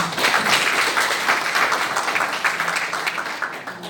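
An audience at a conservative group's gathering in a National Assembly hall in Yeouido claps warmly, a dense round of applause that starts strong and gradually tapers.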